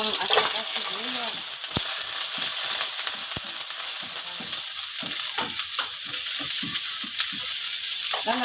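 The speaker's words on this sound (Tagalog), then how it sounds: "Tapos, gigisa na natin yung bawang. Yung bawang at saka sibuyas." Garlic and onion sautéing in a little hot oil for chicken noodles, a steady loud sizzle with occasional stirring scrapes and clinks, no talking.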